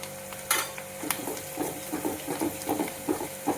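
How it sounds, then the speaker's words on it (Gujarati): Chopped onions frying golden with chilli in a pan for Bombay-style chana chor, a bright sizzle under repeated scraping stirs and light utensil clinks in a quick rhythm, close and fairly loud. "કાંદા નાખી દઈએ ને ગોલ્ડન ફ્રાય કરીએ"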